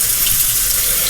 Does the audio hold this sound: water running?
yes